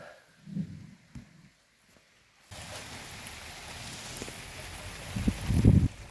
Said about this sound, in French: Vous entendez la pluie?